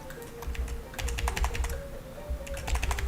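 Rapid keystrokes clatter on a computer keyboard while coding, in uneven bursts of crisp clicks close to the microphone over a faint steady electronic hum.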